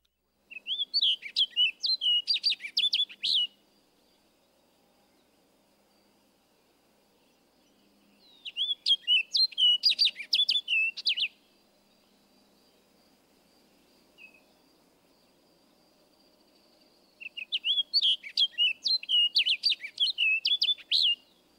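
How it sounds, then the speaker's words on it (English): Orchard oriole singing in three separate bursts of rapid, warbled whistled notes, each ending in a down-slurred phrase, with quiet gaps between and a faint insect hum in the background. "Listen again to the orchard oriole in the down-slurred phrase towards the end of the song"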